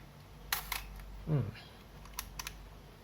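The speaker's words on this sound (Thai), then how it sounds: "ตัวแฟต มันก็จะมีเสียงชาร์จปกติ" A Yashica Auto Focus film camera's flash charging, heard as a brief, faint rising whine between a few soft mechanical clicks, close and quiet against a low background.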